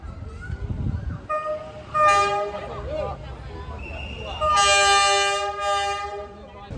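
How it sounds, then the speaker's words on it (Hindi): A train rolls very close past seated onlookers on Hanoi's narrow train street, its horn sounding in loud sustained blasts that swell toward the end, with people talking nearby. "तो ट्रेन जो है गाइस आ रही है, और ये इतनी पास से जाएगी"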